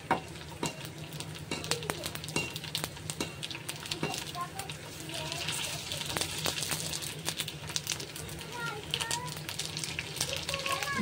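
Food fries in a little oil in a pan, giving a steady soft sizzle with occasional stirring scrapes and clicks, close by, while a voice talks faintly at times.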